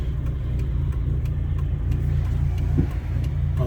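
A Peugeot 206 1.6 16v with a TU5JP4 engine, MA gearbox and newly fitted limited-slip differential accelerates, giving a loud, steady low engine drone that builds gradually, with no talking.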